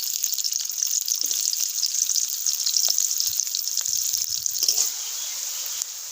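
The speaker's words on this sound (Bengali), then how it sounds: "পেঁয়াজটা লাল লাল করে ভাজা হয়ে গেছে।" Chopped onion frying with a bay leaf in oil in a kadai, a steady hissing sizzle at moderate level with a few faint clinks, easing off near the end, with no voices.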